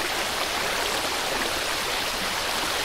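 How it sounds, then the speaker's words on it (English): Rushing waterfall and spray from a Minecraft sound mod, a dense, steady broadband hiss of falling water that holds at the same level throughout with no pauses and no voices. "Waterfall effect, water flowing downward will trigger water spray and waterfall sound."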